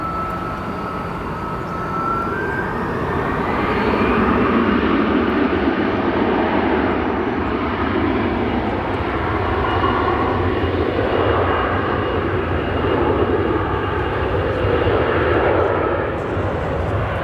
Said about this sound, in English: our Embraer 75 departing to New York LaGuardia.